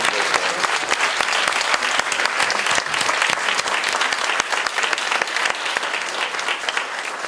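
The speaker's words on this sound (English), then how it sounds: "Big round of applause." A large audience applauds steadily and loudly for several seconds, a dense continuous wash of many hands clapping at an event honoring senior administrators.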